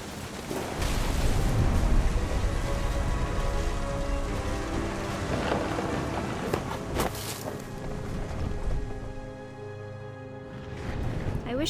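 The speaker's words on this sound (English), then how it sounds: "The thunder sounded much too close and full of angry power" Storm ambience from the video game What Remains of Edith Finch: steady rain and rumbling thunder fill the scene, with a loud swell near the start and a softer, calmer stretch later, and no talking.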